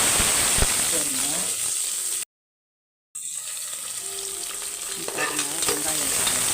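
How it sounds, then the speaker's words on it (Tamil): Onions sautéing in a pan for mutton curry, a bright close sizzle with occasional stirring scrapes, broken by a short moment of complete silence before the frying resumes. "வெங்காயம், இஞ்சி பூண்டு பேஸ்ட்டு நல்லா வதங்கணும்"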